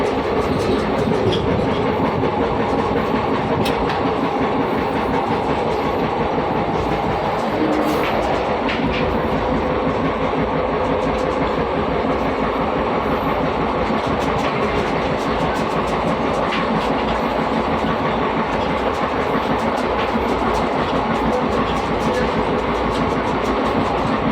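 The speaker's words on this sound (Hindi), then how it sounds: "ये हमारी ट्रेन आ गई है सहारनपुर।" A passenger train pulls into Saharanpur station with a continuous loud rumble, rhythmic clickety-clack of wheels over rail joints, and steady carriage noise throughout.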